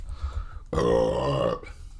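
A single long, loud burp rolls out close to the mic for nearly a second, with quieter low rumbling from the room before and after it.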